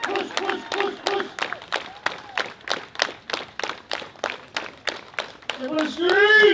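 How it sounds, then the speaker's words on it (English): Rhythmic hand claps from an audience at a Samoan cultural show on a Hawaii island stage, steady beats roughly three per second under a shouting emcee's voice, ending in a rising crowd yell. "Everybody clap your hands."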